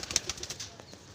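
Madrasi pigeons give a quick flurry of close wing flaps and soft cooing, a short rapid series of beats.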